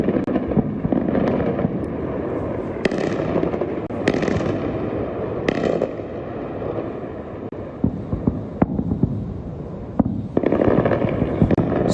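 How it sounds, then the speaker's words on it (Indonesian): Explosions from an Israeli airstrike on Tehran, Iran, a run of sharp blasts and cracking bangs over a constant roaring rumble and wind buffeting, loud and sustained with no voices. "Serangan udara Israel ke Teheran"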